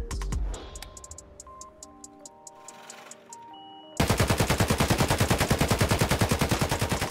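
An AK rifle in 7.62x39mm, set to single fire in the video game Escape From Tarkov, lets off a fast, evenly paced string of loud shots after a few seconds of quiet clicking and handling noises.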